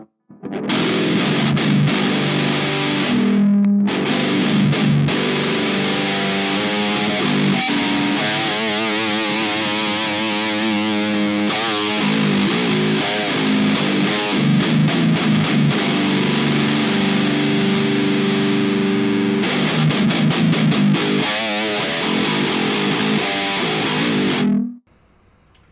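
Heavily distorted 8-string guitar played through the Aurora DSP Fleshrot amp suite, loud and close. Low chugging riffs and sustained chords ring out with brief pauses and then stop abruptly near the end.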